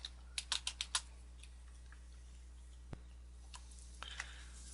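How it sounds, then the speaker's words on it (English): Quick bursts of clicks from a computer keyboard as text is entered into a WordPress page, a rapid cluster of keystrokes followed by a few scattered taps, quiet and close with a steady low hum beneath. "So we type this in."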